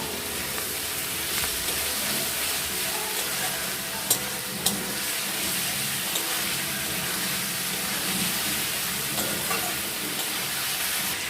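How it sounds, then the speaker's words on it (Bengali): Onion paste sizzles and fries steadily in a hot pan while being stirred, a continuous close crackle with a couple of sharp utensil clicks, for a home-style country chicken kosha mangsho. "এবার আমরা দিয়ে দিব পেঁয়াজ বাটা। দিয়ে এটাকে আমরা একটু ভালো মতো করে নাড়াচাড়া করে নেব।"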